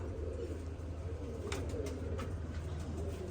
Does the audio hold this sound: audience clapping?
no